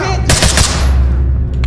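A short, loud burst of full-automatic gunfire in the tactical shooter Ready or Not, rapid close shots rattling in quick succession for under a second, then ringing off over a constant low game hum.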